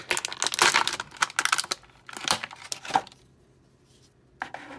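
Rubber or plastic bands holding a WWE Mankind action figure's hands and feet are ripped from the packaging in a quick run of close, sharp tearing and snapping bursts, then it goes quiet before one last pull.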